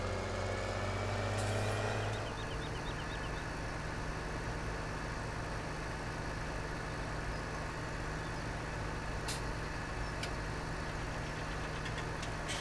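A New Holland T8 435 tractor in Farming Simulator 17 runs with a steady, loud diesel drone, first revving with a rising tone and then settling into a constant, even rumble.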